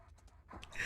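A dog panting in The First Descendant video game: a few quick, soft breathy puffs close by, building slightly louder toward the end.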